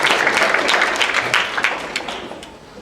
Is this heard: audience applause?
yes